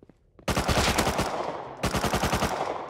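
Gunfire striking a player in the video game Rust comes as two long, rapid bursts of automatic shots. The shots are loud and close and crackle hard with a fast, steady rhythm.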